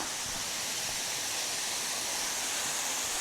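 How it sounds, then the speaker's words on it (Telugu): Steady roar of a waterfall with shallow pools below it, on a muddy site in Mizoram in northeast India, a broad, unbroken rush of falling water heard close and loud throughout with no voices. "సో ఇదిగోండి ఈ విధంగా అయితే ఉంది వాటర్ ఫాల్"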